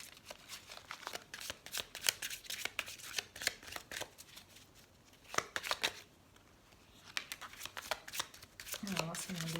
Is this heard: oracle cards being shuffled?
yes